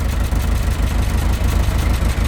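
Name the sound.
Talbot Express van exhaust blowing while idling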